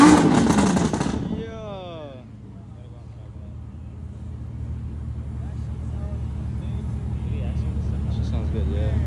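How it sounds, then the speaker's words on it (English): A supercharged Audi R8 with VF Engineering tuning at a supercar car show, beginning with a loud, sharp rev that quickly falls away into a steady idle rumble with fainter traffic behind it. "We got the supercharged R8 right here. VF Engineering."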